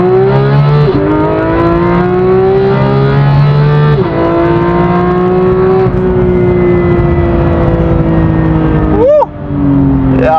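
A loud Porsche GT3 engine roars close by, holding a high, steady whine with small dips, then a quick sharp rev blip near the end.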